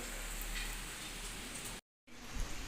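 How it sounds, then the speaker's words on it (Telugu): Steady afternoon rain in Bangalore hisses across a surface, broken by a brief gap of silence before the rain resumes with a few heavier drips. "వర్షం ఎలా వస్తుందో"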